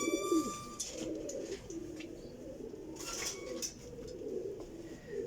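Low, burbling coos from desi flying pigeons repeat steadily and nearby, with faint chirps and a brief soft flutter of wings in the background.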